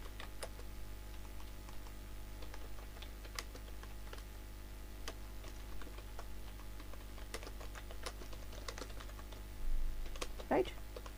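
Faint, sparse clicks of typing on a computer keyboard, spread irregularly across the stretch with a brief louder burst near the end.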